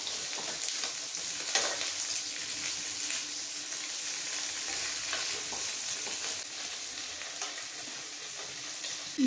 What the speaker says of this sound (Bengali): পনির কিন্তু খুব তাড়াতাড়ি ভাজা হয়ে যায়